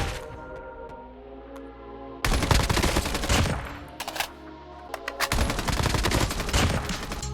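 Call of Duty Mobile gunfire plays in rapid automatic bursts, loud and close, with short pauses between volleys and no talking.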